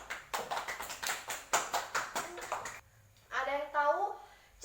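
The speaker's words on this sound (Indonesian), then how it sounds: "Beri tepuk tangan untuk Mbak Tasya." A primary school class claps in a quick patterned rhythm of distinct bursts, followed by a voice speaking.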